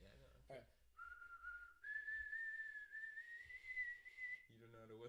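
A person whistles a sustained, steady tune that rises slightly in pitch, bracketed by brief voice sounds at the start and end.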